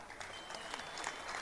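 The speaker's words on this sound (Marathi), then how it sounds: "अजिंक्य भैयासाठी टाळ्या वाजवा." A crowd applauds at a Maharashtra Christian-Muslim rights conference, a dense, even wash of clapping that holds steady for the whole moment without any break.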